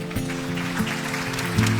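A crowd applauds Shakib Khan at the Meril Prothom Alo Awards 2024 ceremony with a brief, steady wash of clapping from a large hall, carried over a sustained low musical tone.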